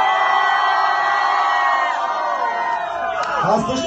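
A club crowd at a freestyle rap battle cheers and whoops for a rapper, a loud, dense burst of shouting that holds steady and swells again near the end.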